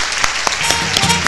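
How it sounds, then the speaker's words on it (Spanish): An audience applauds in a busy conference hall during a blogging event in Peru, a dense wash of clapping with a few sharper claps poking through and faint background voices. "Un aplauso, por favor"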